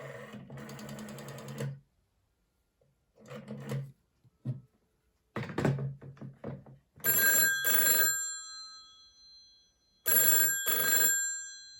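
A Stromberg Carlson rotary telephone rings its bell in two loud, shrill bursts near the end. Several short mechanical clattering bursts come before the rings, with quiet gaps between them.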